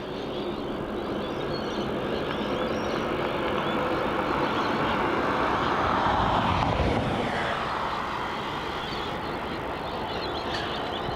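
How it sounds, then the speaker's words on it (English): Malaysia Airlines A380 taxiing at Melbourne Airport, a broad, steady jet engine roar that holds at constant loudness throughout, swelling slightly midway, with no talk. "That Malaysia Airlines A380 taxiing back to the international terminal here at Melbourne"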